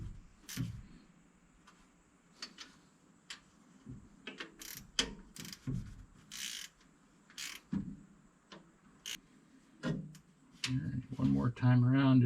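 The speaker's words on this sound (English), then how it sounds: "We'll find where I put my ratchet." Ratchet clicking in short bursts while tightening water pump bolts on a 1977 Ford F150 with the 300 4.9L six, close and intermittent, with a person talking near the end.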